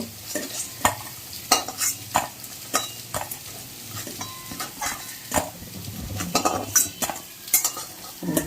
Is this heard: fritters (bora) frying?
yes